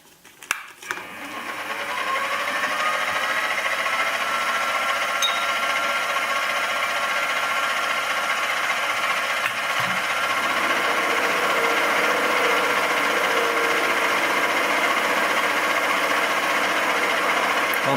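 A lathe takes a cut with a small homemade boring bar, spinning up at the start into a steady, loud, even machining whine and hum that holds for many seconds without talk.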